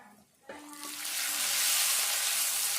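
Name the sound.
tempering spices frying in a pan for pepper rasam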